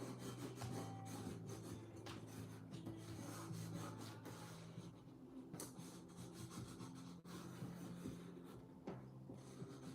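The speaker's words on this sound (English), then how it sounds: "Give it a good rub." Hand rubbing paper down firmly onto a page while assembling a 12x12 scrapbook album, a steady, close dry rasping and scuffing that runs continuously for about ten seconds, with no talking.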